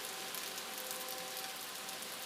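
Steady rain falls in a soft, even hiss, faint and continuous with no other sounds.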